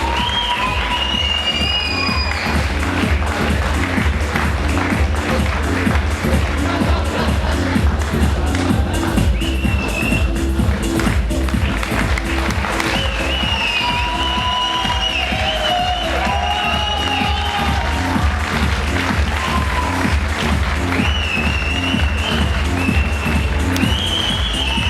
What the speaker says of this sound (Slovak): Takže záverečný aplauz pre Horacia Salvatoriho z Talianska